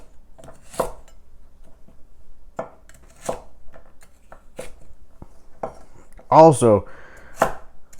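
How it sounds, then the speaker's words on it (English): Knife chopping vegetables into sticks and dice on a cutting board: sparse, crisp single chops at irregular intervals in a quiet room, with a brief word spoken near the end. "It's real easy to just cut them into dices"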